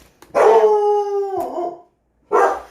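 A dog lets out a loud, close, drawn-out howling bark, then a short second bark after a pause, indoors in a home kitchen. No one speaks.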